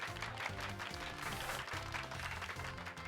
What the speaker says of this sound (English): Give Pikachu a round of applause.